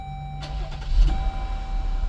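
A Jeep Grand Cherokee 3.6 V6 cranks briefly and catches, settling into a loud close idle right after a new starter is fitted.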